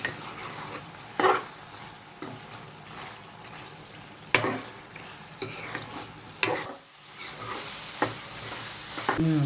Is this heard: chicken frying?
yes